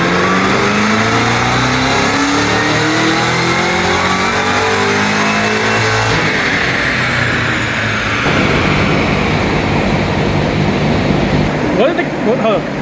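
A stock Cadillac CT5-V Blackwing roars through a dyno pull, its engine note climbing steadily in pitch under load, loud and close, before easing off near the end with voices talking over it.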